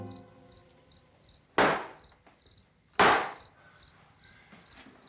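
Large nails hammered into wood in a classic horror film: two heavy, well-spaced blows ring out loudly and decay quickly, with steady insect chirping continuing in the background.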